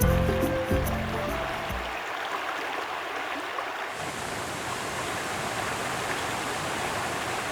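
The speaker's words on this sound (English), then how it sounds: "On its journey to the crater lake, the stream forms a waterfall." A stream on its way to a volcanic crater lake spills over a small two-metre waterfall, a steady close rushing of water that stays loud throughout, joined by a brief tonal musical sound at the start.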